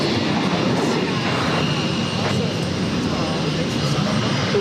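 Jet airliner taking off from runway 22 right at Boston Logan, a loud continuous engine roar holding steady throughout, with faint radio voices underneath.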